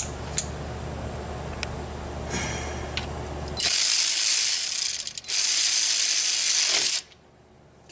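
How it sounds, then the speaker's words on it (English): Ratchet tightening a bolt on a 2009 Dodge Caravan: a loud, close, rapid clicking pawl runs in two bursts with a brief pause between, then stops, with no talking. "what I'm gonna do, I'm gonna tighten this bolt up"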